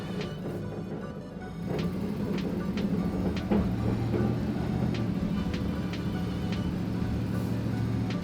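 A work van drives along, a steady loud low rumble of engine and road noise from inside the cabin, with a few light ticks and rattles over it.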